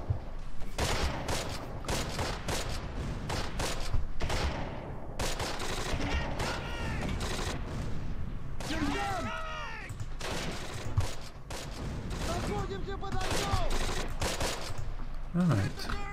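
Rapid infantry gun and small-arms fire from the World War II tactics game Close Combat during the Longest Day campaign, steady crackling bursts throughout, a voice speaking over the battle noise.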